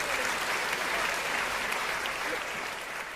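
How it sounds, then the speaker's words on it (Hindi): A hall audience at a Hindi comedy and satire show gives a guest a hearty welcome with continuous clapping. It stays full and even, then eases slightly at the end. "एक बार जोरदार तालियों से आप स्वागत करिए।"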